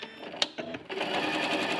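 Sewing machine running a quarter-inch seam on a traditional log cabin quilt block, a steady whirring drone after a brief start with a few clicks, close and fairly quiet.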